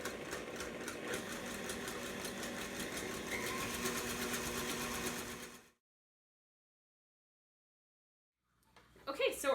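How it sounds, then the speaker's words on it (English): An electric mixer whisks cream with sugar into stiff whipped cream, whirring steadily and loudly for several seconds before switching off into silence, followed by faint kitchen handling at the end. "you're just going to whisk this until it's stiff"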